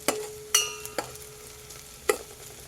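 Ginger and garlic fry lightly in a pan for almond soup with a soft sizzle, broken by a few sharp clinks of a spoon stirring against the metal, close and quiet.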